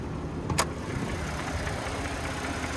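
A 2026 Ford Bronco Badlands Sasquatch's 2.7-liter twin-turbo V6 idles quietly and steadily with a low mechanical hum, with a brief sharp click near the start.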